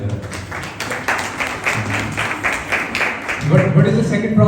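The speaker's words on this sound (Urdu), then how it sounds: "میں یہ زوردار تالیاں بجائے گا" Loud, steady applause from a church congregation during a sermon, dense rhythmic clapping throughout that swells near the end.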